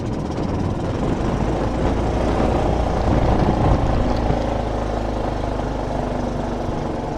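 Steady engine drone and road rumble from a 2025 Yamaha UMAX 2 Rally 2+2 EFI gas golf cart riding along, a constant loud, close hum without talk.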